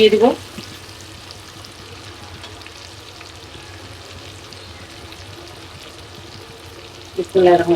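Steady frying sizzle hisses on throughout, with brief voices at the start and end.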